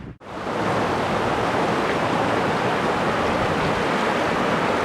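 The clear Tyro River near Crabtree Falls in Virginia flows past with a steady, loud, rushing wash of water. The sound is constant and close, with no talk over it.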